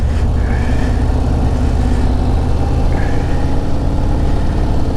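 A 2024 Harley-Davidson Road Glide motorcycle engine rumbles steadily while riding, a loud continuous low drone with wind noise and no talking.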